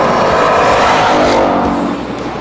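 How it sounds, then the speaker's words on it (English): A Ford Mustang's 5-litre Coyote V8 with a 3-litre Whipple supercharger and catback exhaust roars loudly and steadily, easing off slightly toward the end, with no voices. "A 3-litre Whipple supercharger sits atop the 5-litre Coyote V8"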